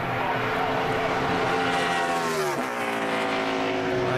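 A NASCAR Nationwide race car on a qualifying lap at Charlotte, its engine roaring loudly at high revs with a sharp pitch drop midway as it sweeps past, and a lower drone trailing after.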